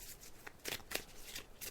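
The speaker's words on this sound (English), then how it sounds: "So I'm just shuffling the cards now." Tarot cards are shuffled by hand in quick, soft riffling bursts with brief pauses between them, close and quiet, no one speaking.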